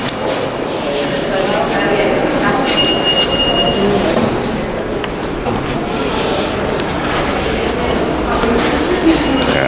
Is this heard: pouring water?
no